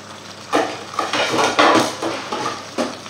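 Several metallic clanks and clatters of a lid being set on a cooking pot of mussels with Roquefort, close and fairly loud, in a short irregular sequence with no talking.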